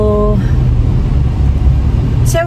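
A car being driven gives a steady, loud low engine drone and road rumble that holds evenly throughout, with a brief tonal sound at the start and a short high squeak near the end.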